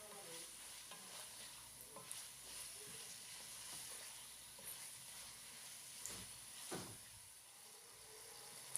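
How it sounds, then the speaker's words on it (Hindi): Dried plums (aloo bukhara) fry on a medium flame for chana biryani, with a steady, close sizzle and hiss in the oil broken by occasional stirring scrapes. No one speaks over it. "मीडियम फ्लेम पे 2 से 3 मिनट तक हम इनको फ्राई करेंगे।"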